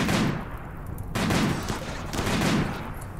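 Gunfire in the video game RimWorld: rapid rattling bursts of shots in three waves, dense and continuous, fairly loud with no voices over them.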